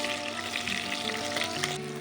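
Chicken pieces fry in hot oil for a Bengali murgh musallam, giving a loud, even sizzle that holds steady from start to finish with faint tonal hum underneath.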